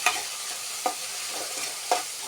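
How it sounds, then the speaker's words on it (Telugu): Finely chopped green chillies and tomato frying in a pan after a tempering of seeds, a continuous bright sizzle broken by two or three sharp spoon scrapes against the pan, close and clear with no talking. "అవి ఫ్రై అయ్యేంత వరకు కలపాలి"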